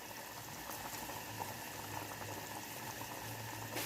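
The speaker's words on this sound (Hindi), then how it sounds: "अब पानी उबलना शुरू हो गया" Water at a steady rolling boil in a cooking pot for chicken yakhni pulao, a close, constant bubbling fizz that continues without talk.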